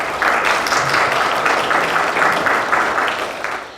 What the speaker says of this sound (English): give them a round of applause publicly